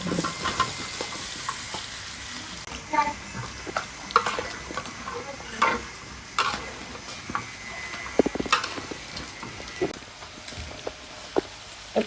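Beans and cauliflower fry in a spice paste, a steady sizzle broken by repeated scraping strokes of a spoon stirring the pan, close and continuous.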